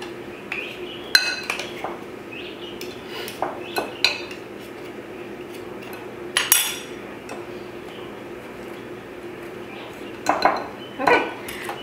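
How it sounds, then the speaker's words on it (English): Butter being cut into a flour mixture in a bowl for mulberry cobbler, scattered metallic clinks and scrapes of a utensil against the bowl over a low room hum, with occasional louder knocks and faint talking. "Cut it in more and more, the butter will fall off."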